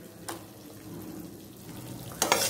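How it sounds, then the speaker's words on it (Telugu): Cooked rice is stirred into tamarind paste for pulihora, producing soft scraping and mixing noises with a faint background sizzle and two sharp scrapes of the utensil against the pot. "దీంట్లో కలిపేస్తాం అన్నం కలిపేస్తాను"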